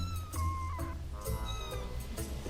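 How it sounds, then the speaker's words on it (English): A cat meows in a few short, strained calls with a faint, slightly distant quality, over steady low background noise. "Orange Kitty, are you trying to escape?"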